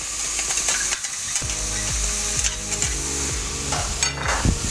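Garlic frying in a hot pan for a stir fry, a loud close sizzle with scraping and clattering stirs, while a faint tonal hum steps up and down in the background.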